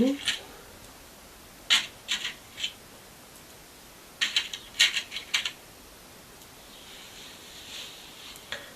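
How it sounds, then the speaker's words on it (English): Small plastic fake-pearl board game pieces clack and rattle in short handled bursts, with quiet pauses between clusters of crisp, light clicking, close up. "these are not real pearls, they're just little fake ones. They make a really nice noise"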